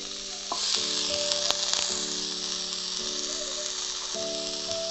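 Pumpkin and tomato slices sizzle on a Concord 180° open sandwich griller, a steady close hiss with faint crackle running unbroken throughout, no voices.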